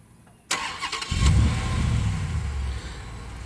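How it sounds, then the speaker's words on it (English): A Dodge SRT Challenger fires up by remote start: a sharp crank and catch, followed by a deep, steady idle rumble close by, with no voices. "Takes 4 seconds for it to crank up after you press it the third time."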